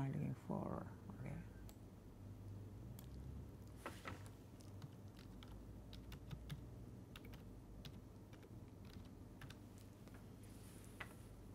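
Someone typing a drug name into a computer search, producing sparse, faint keystroke clicks with a few louder taps over a quiet room hum, following a brief low murmur at the start.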